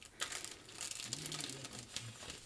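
Plastic sticker folder with a Velcro closure being opened to reach freebies tucked inside, giving steady close crinkling and rustling with a few sharper crackles throughout.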